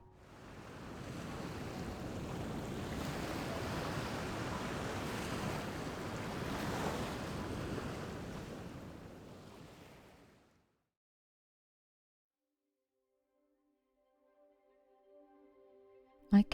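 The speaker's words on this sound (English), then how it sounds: "trading the noisy traffic for the soothing sound of the sea" Steady broadband wash of sea waves rolling onto shore with wind, loud and continuous for about ten seconds, then cutting to near silence with a few faint tones at the end.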